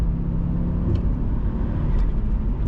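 An Audi RS2's engine rumbles steadily from inside the car, with faint wastegate chatter breaking through now and then, continuous and fairly loud.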